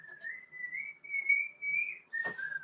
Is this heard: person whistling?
yes